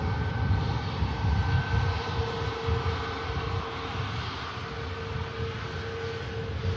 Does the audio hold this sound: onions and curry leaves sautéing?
no